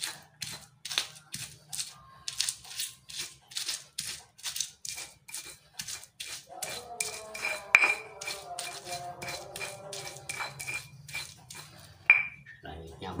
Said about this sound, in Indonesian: Ulek cabe sampai halus.